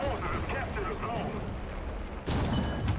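75mm AP tank gun firing in War Thunder, a sudden loud boom near the end following a stretch of rumbling engine noise and a voice talking.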